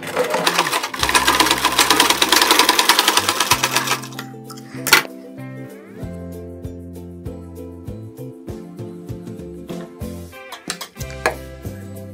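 A sewing machine stitching a blouse runs in a fast rattling burst for a few seconds, then stops, followed by scattered clicks and handling noises.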